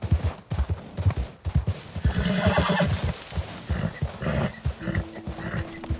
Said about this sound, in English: The horse gets started quickly.